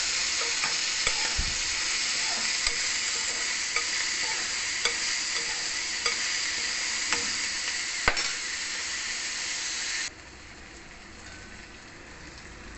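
Sliced onions with salt and turmeric sizzle steadily in a hot pan, a dense continuous frying hiss punctuated by faint scrapes of stirring, with no talk.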